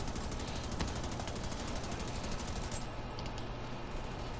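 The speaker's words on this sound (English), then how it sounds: "I'll just keep popping shots at him" Rapid automatic gunfire from The Division 2 video game rattles on continuously as a fast, dense burst of shots over steady loud background noise, with no talking.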